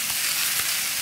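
Chopped papaya frying with chili powder in a pan for Kerala-style thoran, a dense, even sizzle and hiss heard close up with no voices.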